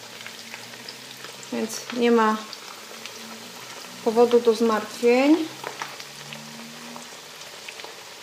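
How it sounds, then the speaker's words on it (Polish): Pork cutlets deep frying in fairly deep fat, a steady faint sizzle and crackle running throughout beneath a person speaking at moderate volume. "Smażymy w takim dosyć, można powiedzieć, głębokim tłuszczu."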